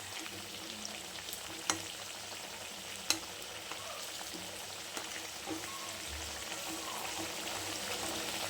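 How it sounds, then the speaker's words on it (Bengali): Raw, unboiled potato pieces fry in a pan with a faint, even hiss of oil, dotted with a few sharp clicks and taps from stirring, quiet and close with no voices. "আলুটা একটু ভাজতে সময় লাগে।"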